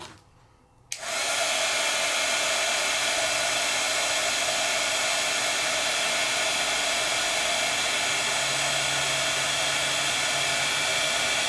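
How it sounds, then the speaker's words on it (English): Handheld embossing heat tool blowing hot air to melt layered embossing powder on a paper craft project, switching on with a click and then holding a loud, continuous whooshing drone close by. "I'm asking my heat tool to not just heat the top coat of embossing powder, but to reheat the bottom coat"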